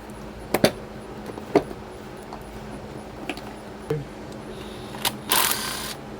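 A ratchet and socket work on an engine air box, giving scattered sharp metallic clicks and clanks at close range, ending with a short burst of faster ratcheting, with quiet background between.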